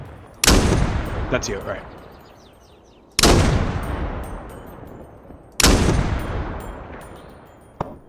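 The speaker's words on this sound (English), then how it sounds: "I hear some gunfire as well." Three loud, sharp shots ring out in the Dagger Directive video game, each followed by a long, decaying echo at steady intervals of about two and a half seconds. A player speaks briefly between the shots.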